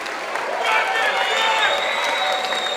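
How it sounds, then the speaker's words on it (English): A live crowd at an MMA fight night in Birmingham applauds both fighters after a second-round TKO stoppage, steady dense clapping and cheering filling the hall for the whole stretch, with voices mixed in. "Ladies and gentlemen, round of applause for both fighters this evening."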